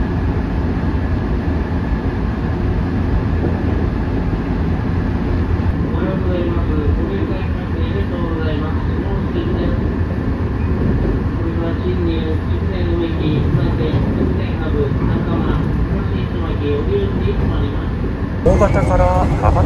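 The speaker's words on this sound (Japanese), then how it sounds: "6時49分直方駅をね、下関行きの福北豊線発車していきます。" Inside a Series 415 train pulling out of Nogata Station on the Fukuhoku Yutaka Line bound for Shimonoseki: a loud steady interior rumble with a rising motor whine as it accelerates, and someone talking over it.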